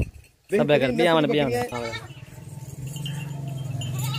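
Goats in a Pakistani livestock pen give one loud, wavering, nearby bleat followed by a shorter, quieter one, then a low steady hum of the surroundings.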